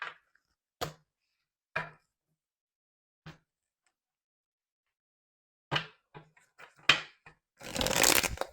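Tarot cards being handled and shuffled: a few sharp isolated riffles and taps spaced apart, then a quicker cluster and a dense burst of shuffling at the end, close and alone.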